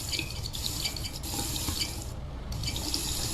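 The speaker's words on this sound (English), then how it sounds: "That's some nice faucet water though" Faucet water runs steadily in the Scratch game Dayshift at Kirbo's 3, a continuous soft splashing flow into a sink with faint drips, heard alone at low volume.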